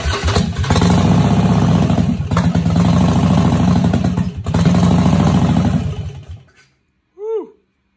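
A neglected Harley Sportster 1200 Custom with chopped exhaust pipes fires up and runs loud and close for about six seconds, a heavy rumbling motorcycle engine that then cuts off, followed by a brief voice.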